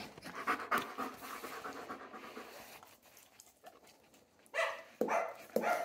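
A German shepherd pants in quick rhythmic breaths at close range, with a few louder huffs near the end and a quiet indoor background.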